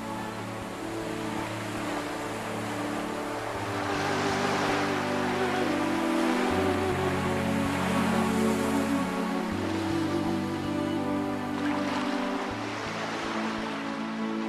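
Sea waves wash onto a long pebble beach along an ancient coastal trail in eastern Taiwan, a constant broad roar of surf swelling and easing under a low steady hum, with no voices.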